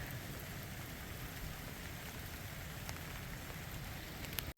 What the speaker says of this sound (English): Still raining on us, and we're still climbing up this rock face.